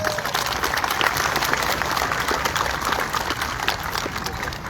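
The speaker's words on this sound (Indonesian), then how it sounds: "Tepuk tangan" Teachers and students at a school gathering in Singaraja, Buleleng, Bali, clap steadily in a dense, continuous burst of applause that stays loud and even throughout.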